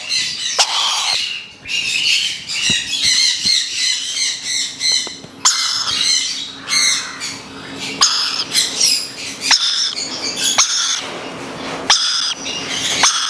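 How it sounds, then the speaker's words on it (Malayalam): A black-capped lory parrot squawks loudly and close by in a pet bird setting, giving a continuous run of harsh, rapid, repeated screeches and chattering calls, with no talking. "ഇതാണ് ബ്ലാക്ക് ക്യാപ്പ് ലോറി."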